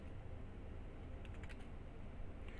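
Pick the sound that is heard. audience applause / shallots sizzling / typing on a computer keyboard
typing on a computer keyboard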